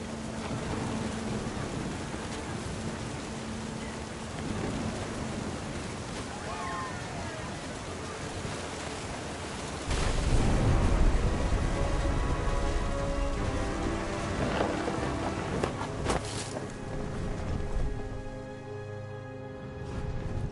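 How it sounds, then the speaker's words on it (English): A thunderstorm in What Remains of Edith Finch brings constant rain hiss. Midway, a heavy, close thunder rumble booms, then slowly fades back to rain while a voice narrates over it. "The thunder sounded much too close and full of angry power"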